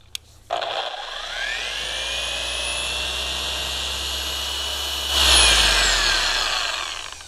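A power tool spins up to clean out a polishing pad used for aluminum polishing, a loud rising whine that holds steady, then swells into a rougher, louder scrubbing burst before winding down; no talk.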